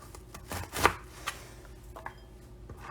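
Knife chopping food on a board while preparing pasta bolognese, a few irregular sharp chops with one louder strike, faint and close, with no talking.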